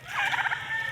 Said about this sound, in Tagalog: Pabo Pius! Yan guys, galit na galit yan guys.